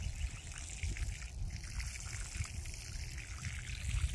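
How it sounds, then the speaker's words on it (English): Water mixed with fish fertilizer poured onto a newly planted pawpaw tree, a steady close trickle and splash that goes on without a break. "Now we're going to give her some fish fertilizer."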